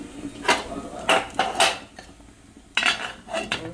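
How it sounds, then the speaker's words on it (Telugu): Metal idli plates clatter and clink as they are stacked into a cooker, several sharp metallic knocks in two bursts with a pause between, close and fairly loud, no talking. "ఇప్పుడైతే ఇడ్లీ మొత్తం రేకులు వేసేసాను"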